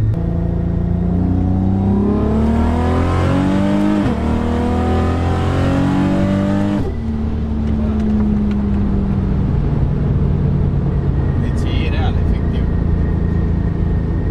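An 820 hp turbocharged 3.6 VR6 Audi A3 with all-wheel drive and DSG gearbox revs hard and climbs in pitch through several gears, loud and close, then drops back to a steady drone.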